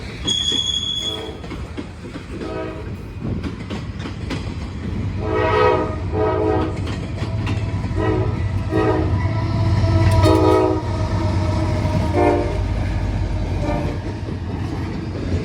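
A Norfolk Southern intermodal freight train passes Elkhart station in Indiana, its horn blasting in repeated loud calls over a steady, close roar of wheels and cars rolling by.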